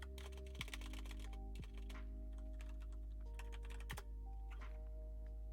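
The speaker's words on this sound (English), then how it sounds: "I'm typing into Google." Someone types on a computer keyboard: a fairly faint run of quick, uneven keystrokes with a few heavier key thunks over a steady background hum.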